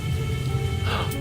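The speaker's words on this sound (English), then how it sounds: "Oh, I did not miss the toxic rain." Toxic rain in No Man's Sky: steady hiss of rain falling continuously, a dense wash of patter with a low rumble underneath, no voices.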